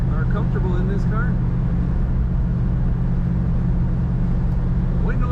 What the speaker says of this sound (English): Wind noise isn't too bad for a winter day in Minnesota, and a convertible top from 1967